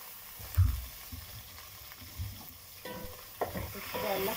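Meat fries in ghee in a pan with a soft, steady sizzle, broken by a few stirring scrapes and knocks, quiet and close.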